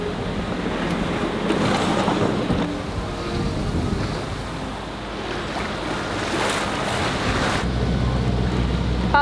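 Strong wind of about 25 knots roars across a sailboat at sea near land, a steady loud rushing broadband gust noise with surging swells of wind and water, no voices.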